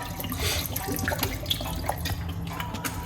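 Ingredients being rinsed under a running kitchen tap, a steady close splash of water with small drips and clatter, heard alone without talk.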